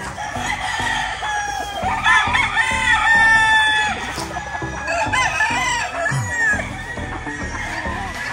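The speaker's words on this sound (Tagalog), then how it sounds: "Yung mga manok nila." Chickens cluck and roosters crow repeatedly, fairly close, in an overlapping farmyard chorus with a brief vocal sound mixed in.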